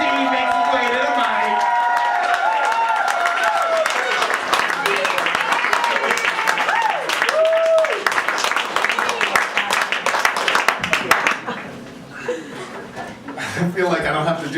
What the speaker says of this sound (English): Clap as Steve makes his way to the mic.